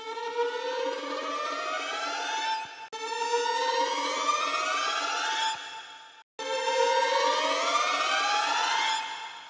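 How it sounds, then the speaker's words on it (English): Layered rising string glissandi played by a single string player and stacked into many takes, each octave sweep climbing smoothly in three loud, sustained passes with brief gaps between them. "And then I had her play that glissando up an octave for each take."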